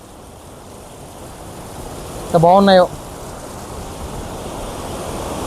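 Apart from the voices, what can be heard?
waterfall water rushing with heavy force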